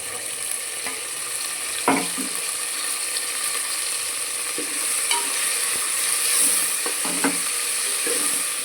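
Tomato frying in oil in a pan, a steady soft sizzle with occasional sharp clicks and scraping stirs, quiet and close with no talking.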